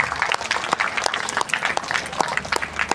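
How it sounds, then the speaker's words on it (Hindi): Steady audience applause at a Navdha Ramayan gathering in Nawkesha, close and continuous with dense overlapping claps and no talking. "बजते रहना चाहिए ताली"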